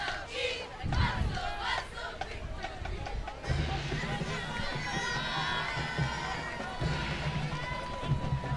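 Spectators at a high school football game under the lights make a busy crowd noise of shouts, cheers and chatter, with a band or drum thumping in the background.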